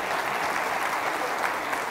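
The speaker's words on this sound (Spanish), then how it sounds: "Un aplauso para él." Audience applause welcomes a panelist at a business panel on the fourth industrial revolution and foreign investment, a dense, even wash of clapping held at moderate level throughout, with no talk over it.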